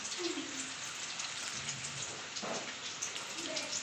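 Vegetable pitha, a Bengali winter festival snack, fries in hot oil with a dense, continuous sizzle and crackle at close range, with no voices.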